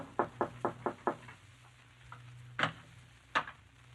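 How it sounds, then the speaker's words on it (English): A knock on a door in a radio drama: a quick run of five light raps, then two separate louder knocks after a pause, close and clear over a faint steady hum. "you go upstairs and knock on the door"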